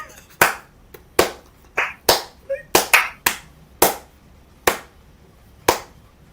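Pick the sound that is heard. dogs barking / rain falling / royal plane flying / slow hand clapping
slow hand clapping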